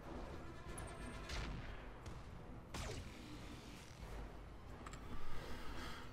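Mechs trade weapon fire in the Roguetech video game, with several sharp booming impacts and crackling bursts spread across the clip over a dense rumbling background, a heavier burst near the end.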